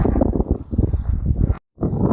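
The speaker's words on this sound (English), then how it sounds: "Pretty windy though. It's really gusty." Strong, cold gusts buffet the microphone in a dense, roaring rush that cuts out abruptly for a moment before blasting back in, high in New Mexico near Mount Taylor.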